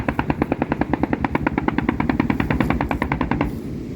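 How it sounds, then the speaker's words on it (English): Rapid machine gun fire rattles in one even burst of roughly thirty closely spaced shots, loud and clear, then cuts off abruptly and leaves a faint hiss. "There's the machine guns."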